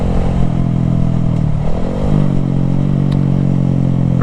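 Idling Honda Grom small motorcycles outdoors before an off-road ride, a loud, close, steady low engine drone with a brief dip and slight pitch wobble, no talk.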